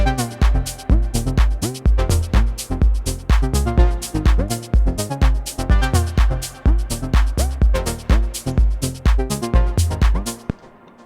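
A dense arpeggiator pattern on an Ableton Move groovebox, with rapid repeating synth notes over punchy kick hits in a steady electronic rhythm, loud and continuous, with no voices, trailing off at the end.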